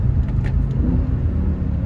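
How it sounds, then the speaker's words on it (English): A 2007 BMW M6 engine rumbles steadily from inside the car during a downshift, a deep continuous growl with road noise and a brief rise in pitch, close and fairly loud. "One thing that's really impressive are the downshifts in this car, okay?"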